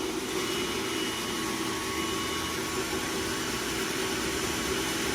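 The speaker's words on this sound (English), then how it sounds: "you just turn it on and you'll see it starts sucking up the product" An Actionpac pneumatic vacuum loader runs steadily while sucking up coffee product, giving a loud continuous rushing whoosh with an even motor hum and no change or speech throughout.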